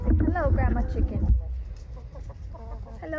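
Backyard chickens cluck and squawk close by in a quick, busy flurry of calls, then settle into softer intermittent clucks.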